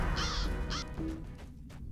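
Crows cawing in the video game Lord of the Rings Online, spawning during a fight with tree creatures: two harsh caws close together, then quieter fainter calls over a low game background hum.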